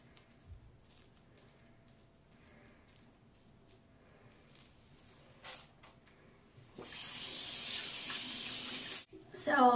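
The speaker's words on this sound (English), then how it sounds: "I'm just going to go ahead and rinse all of the soap and everything out of it" A faucet runs steadily while makeup brushes are rinsed clean of soap and foundation; after quieter handling noises, a loud, continuous rush of tap water fills the last few seconds, briefly cutting out near the end.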